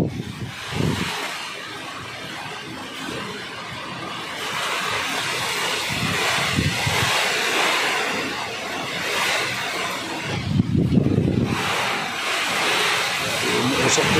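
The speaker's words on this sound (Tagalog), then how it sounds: "sobrang lakas ng hangin" Strong typhoon wind roars continuously with rain, a broad rushing noise with gusts swelling and fading, buffeting the microphone.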